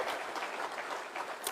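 Delegates applauding at a devolution gathering of senators, governors and county assembly members: a dense, steady patter of many hands clapping, moderately loud and close throughout the brief stretch.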